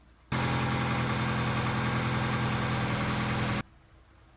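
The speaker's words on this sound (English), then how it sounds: "then you're going to start your engine" A 2007-2012 Nissan Versa engine runs at a steady idle for about three seconds, a constant close rumble that starts and stops abruptly.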